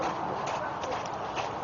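Horse hooves clip-clop in a quick, even rhythm at moderate distance, a little muffled, with a faint voice underneath.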